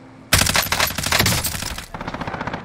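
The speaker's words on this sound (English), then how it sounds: "Getting shot from behind me again." Sustained burst of rapid automatic gunfire in the battle-royale shooter Warzone, erupting loudly after a quiet moment and continuing as a dense rattling volley that thins into lighter repeated shots.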